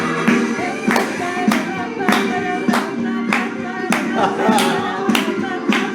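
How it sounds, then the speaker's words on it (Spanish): Congregation clapping in rhythm at a church service, steady regular beats over lively music with voices singing along. "Bata palmas para el Señor."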